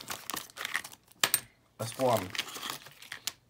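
Scissors snip and crinkle open the plastic top of a UK coin bag full of 50p coins, a short crumpling cut heard under a voice as he speaks.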